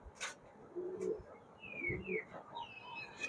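Pakistani High Flyer pigeons cooing in short, soft low calls close by, with a few brighter chirps and whistles from other birds and someone talking quietly in the background.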